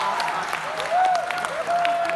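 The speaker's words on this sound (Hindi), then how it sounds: "इस बात पे आगे वालों ने ताली बजा दी है।" An audience at a Banda festival poetry gathering gives a short, fairly loud round of applause, a dense crowd clapping wash with a voice and tonal sounds carrying over it.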